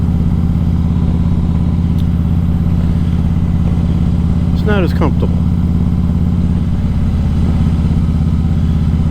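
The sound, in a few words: Harley-Davidson motorcycle riding, heard from inside helmet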